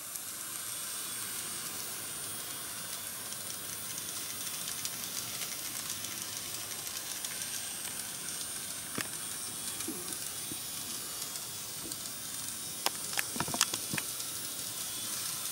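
A Bachmann N scale model train runs along its track with a quiet, steady whirring hiss, broken by a few faint clicks and ticks toward the end.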